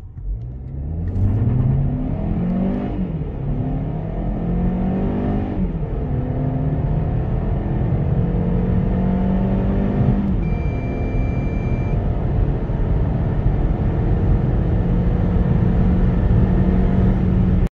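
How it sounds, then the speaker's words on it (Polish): Kia XCeed GT-Line 1.5 T-GDI 160 with a seven-speed dual-clutch automatic accelerating hard, its engine note climbing steadily through each gear with brief dips at the shifts, a continuous close, loud drone with no talking. "I ja mam właśnie odmianę z automatem, więc pora sprawdzić przyspieszenie."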